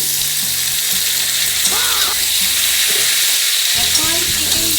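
Chicken pieces tipped into a pan of softened frying onions, with a loud steady sizzle throughout, bursts of stirring scrapes, and one brief near-silent gap before the frying resumes.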